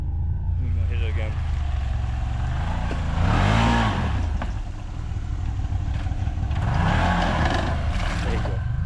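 A newly built off-road cage buggy engine revs hard in two rising and falling surges as it tries to climb, loud and close over a steady rumbling idle, with outdoor wind noise and people talking nearby.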